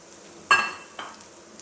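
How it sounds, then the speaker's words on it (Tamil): Crushed cumin dropped into ghee on a hot dosa tawa, a sudden loud sizzle burst that fades, followed by a second smaller sizzle and a faint metallic clink. "இப்போ நான் தோசைக்கல்லில் துளியோண்டு கீ போட்டிருக்கேன். இதில் கொஞ்சம் க்ரஷ் பண்ண ஜீரகம் போட்டுக்கிறேன்."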